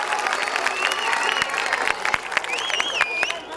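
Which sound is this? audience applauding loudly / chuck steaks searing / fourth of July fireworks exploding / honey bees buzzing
audience applauding loudly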